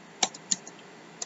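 A few quick, faint keystrokes clatter on a computer keyboard, three distinct clicks spread over about a second in a quiet room.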